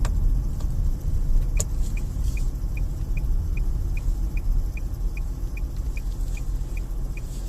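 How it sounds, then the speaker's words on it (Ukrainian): A car drives past on a foggy road, a steady low rumble of engine and tyres holding throughout, with a faint regular high ticking running alongside. "Дуже видно, як їде машина"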